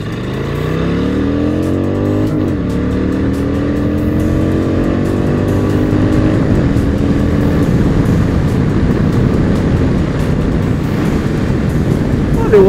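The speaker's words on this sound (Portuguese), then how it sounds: "O escapamento esportivo ela faz um barulho mais legal de 0 a 100." Shadow 750 motorcycle with a sport exhaust and semi stage 1 tune accelerating hard from 0 to 100, its loud, close engine note climbing in pitch, dropping briefly at a gear change, then pulling steadily upward again.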